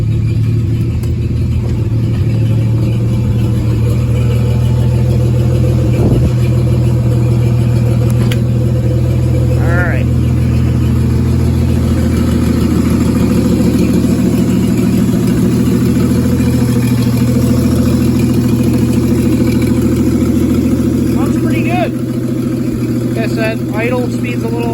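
A Studebaker car engine runs at a steady, close idle with a deep, continuous low rumble. The idle is a little uneven, as from an engine in need of a tune-up.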